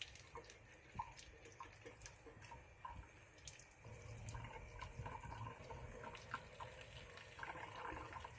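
Water trickles and splashes softly as it is poured for a Hoya bella cutting indoors, a faint, uneven run of drips and pouring with no talk.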